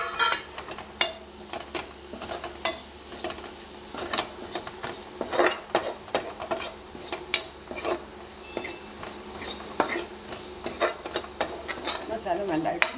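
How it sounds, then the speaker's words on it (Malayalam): Masala fries in a hot pan while a spoon stirs it constantly, sending frequent close scrapes and knocks over a continuous sizzle. "ഇതിലോട്ട് നമുക്ക് നമ്മുടെ മസാല ഇട്ട് കൊടുക്കാം."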